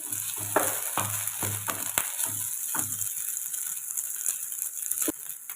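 Onion, curry leaves, crushed ginger and green chilli frying in a pan with whole cumin, a steady close sizzle broken by several knocks and rattles from the spatula, with no voices.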